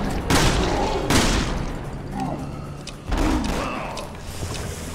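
Gunfire in the zombie shooter Resident Evil 6 during a co-op session: several heavy, booming shots land a second or two apart, loud and close, over a dense wash of game noise.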